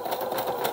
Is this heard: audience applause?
no